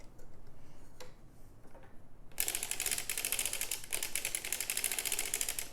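A knitting machine carriage is cranked around for rows of sock knitting, giving a fast, even mechanical clicking that starts quietly and turns into a louder, bright, steady rattle up close.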